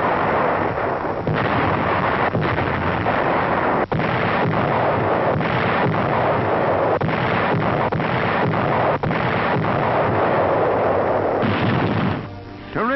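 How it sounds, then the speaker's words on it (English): Naval fleet guns bombard the shore at Okinawa in World War II archival film, a loud, dense, continuous roar of gunfire. A few sharper bursts stand out, and the din fades near the end. "Strategic airfields are the objectives as the great fleet's guns open up."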